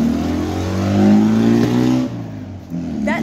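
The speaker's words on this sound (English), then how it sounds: "Why do you need to rev your engine and your spoilers like that?" Car with a spoiler revving hard as it drives past on an early-morning road, a loud, close engine roar that rises then fades and drops away, with no talk.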